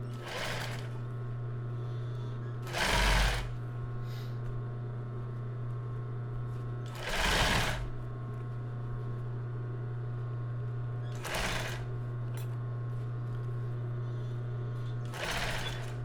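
A sewing machine stitches a fabric topper in a steady mechanical whir, broken by four sharp louder bursts spaced a few seconds apart, close and without speech.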